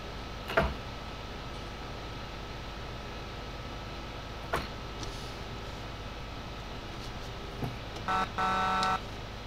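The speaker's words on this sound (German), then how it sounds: "Hast die Hupe gerade gehört?" A tractor horn in Farming Simulator 19 gives a couple of short honks near the end over a steady engine drone, after a few scattered clicks and knocks.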